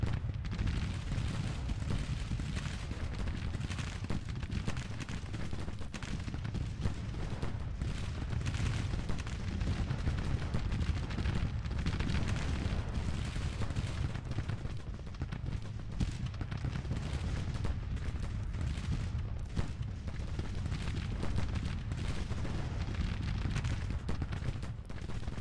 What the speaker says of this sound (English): Intense firefight going on here. The artillery non-stop pounding.